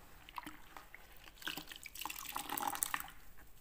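Warm soapy water being used with a cloth and scouring pad to wash primer off pre-primed wooden trim: quiet wet splashes, drips and scrubbing sounds close by that grow busier toward the end.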